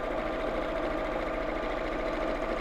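A sewing machine runs steadily while stitching around a seam, giving a rapid, even mechanical chatter with a constant hum that carries on without a break.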